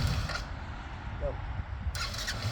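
A Yamaha Grizzly 80 ATV, a small quad, runs with the choke on, its engine a steady low rumble close by throughout.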